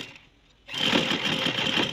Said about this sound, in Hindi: ऊपर से हमने सिलाई लगाना शुरू करनी है